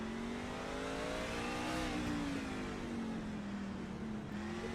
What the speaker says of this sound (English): You can just listen to how short these guys are on the throttle.